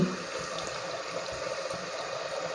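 Water pouring from a pot into boiled chickpeas, a steady, fairly faint splashing and trickling stream running throughout without pause.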